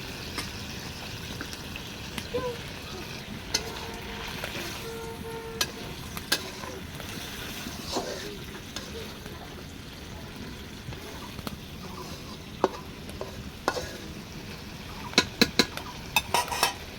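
Kajoli fish frying in a pan gives a steady sizzle throughout, with scattered clinks of a utensil stirring against the metal that grow more frequent near the end.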